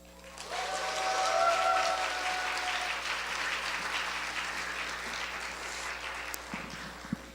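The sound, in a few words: church congregation applauding the pastor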